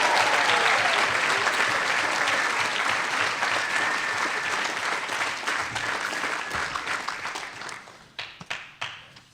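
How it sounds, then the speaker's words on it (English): Audience applause at a university volleyball season banquet, full and steady at first, then thinning into scattered individual claps as it dies away. "Go ahead and give a round of applause for Magda."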